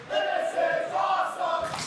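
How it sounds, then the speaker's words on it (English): A wrestling crowd in Mississauga chants "This is awesome" during a TNA Knockouts women's match, a loud rhythmic massed chant rising and falling in repeated phrases across the arena. "And the crowd chanting, "This is awesome.""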